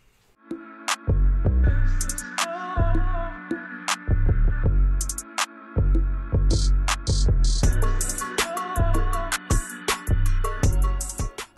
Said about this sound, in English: out with the Dremel